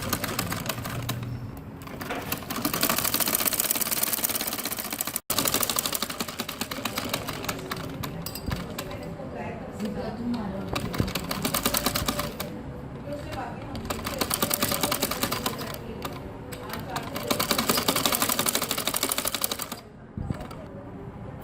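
Sewing machine stitching the hem of a salwar bottom, a fast continuous mechanical rattle running almost without pause, with someone talking over it.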